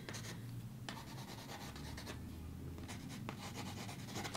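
Watercolour pencils drawing lines on paper, a quiet close scratchy rubbing with repeated short strokes and brief lifts, steady and faint with no talk.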